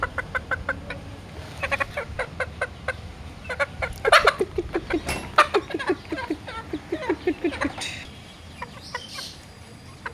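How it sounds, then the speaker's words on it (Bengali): A hen clucks repeatedly in a home courtyard, a run of short, rhythmic clucks close by, rising into a louder burst midway before trailing off. "এই দুষ্ট মুরগি, যা।"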